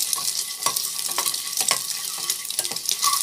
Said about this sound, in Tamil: அப்படியே வந்து ஜஸ்ட் வறுத்துக்கிறேன்.